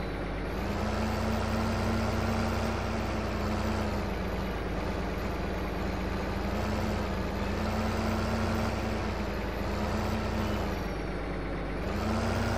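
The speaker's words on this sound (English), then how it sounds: "Yeah, this big case tractor gets this done pretty dang well." A big Case tractor engine drones steadily close by during silage and wheat harvest, a deep, constant hum with a slight rise and fall in pitch and no talking.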